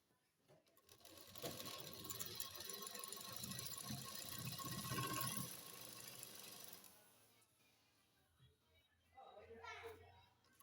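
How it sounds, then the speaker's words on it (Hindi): An electric sewing machine runs in a sustained close mechanical whir while stitching a seam along a women's pant leg, then stops and briefly restarts near the end. "अब हम एक पैर की सिलाई लेते हुए इस पर सिलाई करेंगे।"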